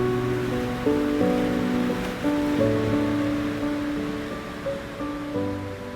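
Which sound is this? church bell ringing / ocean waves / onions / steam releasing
ocean waves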